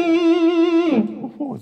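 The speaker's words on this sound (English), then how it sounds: "So this is the first time I've tried the rusty fuzz." An electric guitar played through a Rusty Fuzz distortion pedal holds one buzzy, sustained note with slight wobble, then breaks into a few shorter, rougher notes, loud and up close.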